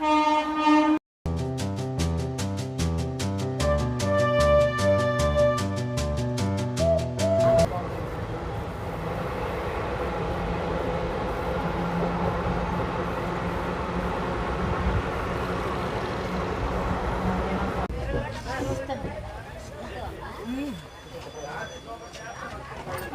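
A passenger train locomotive overtakes on the line with a loud sustained horn, then a long rumbling roll of rail wheels that fades before clattering resumes near the end.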